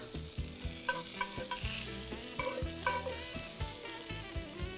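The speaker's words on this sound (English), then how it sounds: "we're getting the fat rendered out of this bacon right now" Bacon frying in a pan with its fat rendering out, a close steady sizzle punctuated by regular rhythmic spatula scrapes and taps against the pan, with no talking.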